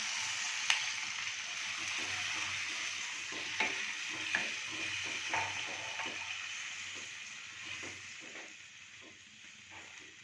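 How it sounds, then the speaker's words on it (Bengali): Water poured into oil-released spices in a pan, for a veg moong dal omelette curry, brings a steady soft sizzle and hiss with occasional stirring taps, fading slightly over time, no talking. "এবারে আমি এটাতে জল মিক্স করে দেবো।"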